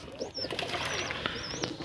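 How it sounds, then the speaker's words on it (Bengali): Punjabi pigeon cooing softly close by in a home loft, a few rising and falling coos over a brief span, with faint chirps and rustling in the background and no talking. "এই যে আমার একটা পাঞ্জাবি পায়রা"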